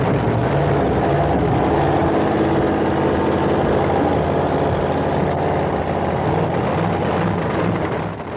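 A nitro-fueled funny car drag racing engine roars at close range, a loud, dense, rough rumble that holds steady before easing slightly at the end.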